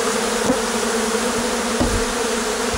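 Honey bees from a large hive built inside a closet buzz continuously and loudly at close range, a dense steady drone with a few brief bumps as bees pass near.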